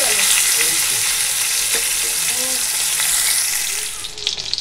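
Pieces of rohu and a couple of tangra fish fry in hot oil with a loud, dense, continuous sizzle close up, easing slightly at the end as a few soft knocks come through.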